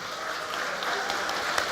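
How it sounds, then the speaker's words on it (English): Short burst of audience applause on the main stage of a startup fair, a brief steady patter of clapping at moderate loudness. "The applause goes to you."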